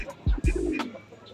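A racing pigeon hen cooing inside a loft, two close, low throaty coos in quick succession followed by a brief softer murmur, with no talking.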